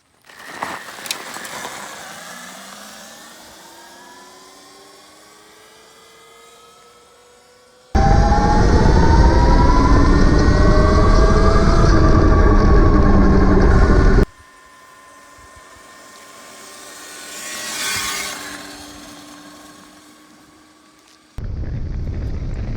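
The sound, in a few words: Sur-Ron electric bike launching from standstill on road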